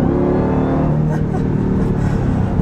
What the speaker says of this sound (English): it sounds so good too with those upshifts from this automatic